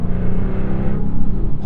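A 2024 Jaguar F-Type R75 engine roars loud and close, revving steadily with a brief dip as it shifts gears.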